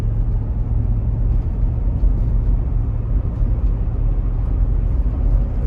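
A high-mileage Cadillac Escalade, totaled and being driven home, drives steadily with a continuous low engine and road rumble as it works up through the gears.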